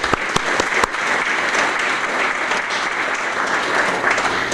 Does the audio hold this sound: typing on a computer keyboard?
no